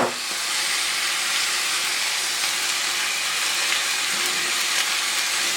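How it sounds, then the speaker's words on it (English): Beans are added to a pan with onions, reserved bean liquid and stock, giving a steady broadband sizzle and hiss that holds at an even level for several seconds, close by and without any talk. "I'm going to throw them in right now with the onions"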